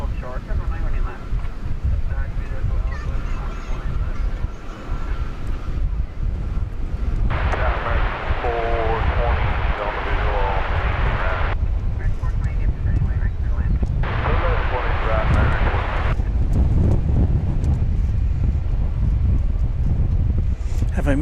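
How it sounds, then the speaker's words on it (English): Strong, gusty wind buffets an outdoor microphone at DFW Airport, a constant roar with rumbling low end that sharpens into hissing gusts, while a distant aircraft engine drone sits underneath. "Have I mentioned that it's breezy here today?"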